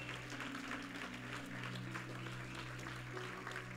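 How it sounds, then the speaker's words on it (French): A church congregation applauds and cheers together after a prayer, with steady clapping over a sustained hum of music or organ tones at low overall loudness. "Alors acclame très fort."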